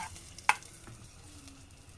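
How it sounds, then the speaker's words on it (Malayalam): Kerala-style fish curry goes into a hot pan with a soft, low sizzle and one sharp clink of a utensil early on, and no voices. "നമുക്ക് കറി ഒഴിച്ച് കൊടുക്കാം."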